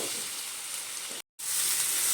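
Tomato and finely chopped green chilli hit onion already frying in oil, making a loud, even sizzle with a brief dropout midway before the hiss returns strong.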